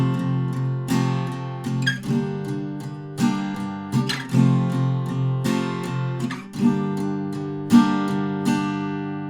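The fingerpicked acoustic guitar intro of a song, with clear plucked notes and ringing chords in an unhurried rhythm, played alone and close.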